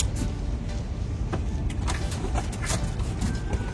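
A car hums along at a low, steady rumble, heard from inside or close by, with faint clicks and small knocks over the engine and road noise and no clear talk.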